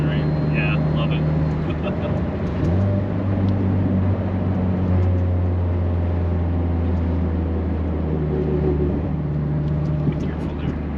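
A turbocharged 2.0-litre Subaru WRX with a Garrett G25-660 turbo, tuned to 612 hp, drives steadily with a loud, continuous engine drone that shifts pitch partway through, heard from inside the car with people talking over it.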